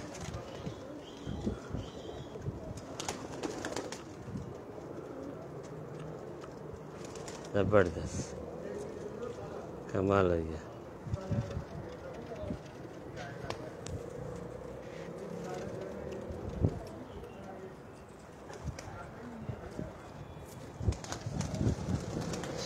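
Rampuri, Ferozpuri and Teddy pigeons coo on a Karachi rooftop, soft repeated throaty calls and occasional wing flutters heard under a man's nearby speech, with faint background traffic.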